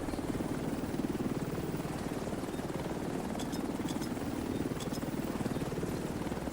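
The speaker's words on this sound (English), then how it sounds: "Chopper on site." A helicopter arriving in the video game The Division 2, its rotor giving a steady rapid chopping thrum that swells and eases at moderate level, with a few faint clicks and no speech.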